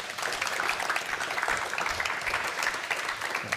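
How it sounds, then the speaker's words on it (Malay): A studio audience in a Malaysian television talk show applauds a guest, a fairly faint, even wash of clapping lasting the whole stretch. "Mari kita berikan tepukan untuk"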